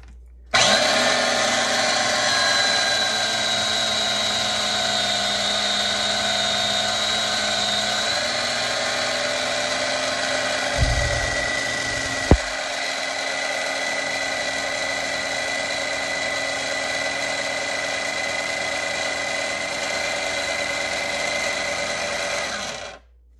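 A food processor churns cream into butter, whirring loudly and steadily for a long stretch with a brief knock or thump partway through, and no voices.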